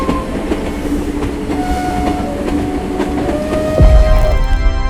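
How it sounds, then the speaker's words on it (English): The Kalka-Shimla toy train rolls into Kalka station with rhythmic clatter and squealing wheels, then a deep thump as it slows, loud and close, with no voices. "our toy train just arrived at the lovely station, Kalka."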